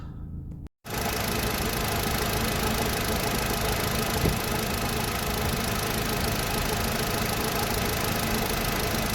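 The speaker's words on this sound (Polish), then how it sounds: "Tak autko pracuje na zimnym silniku, jeszcze nie rozgrzany, dosłownie kilka sekund pracuje." An Audi A4 B6/B7 1.8T turbo petrol engine idles cold just seconds after starting, a steady loud close rumble with a faint knocking texture and no talk.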